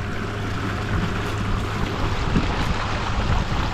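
A motorized Bonafide PWR 129 kayak cruises across open water at moderate speed, giving a steady broadband rush of motor, wind and water spray that stays loud and even throughout with no talking.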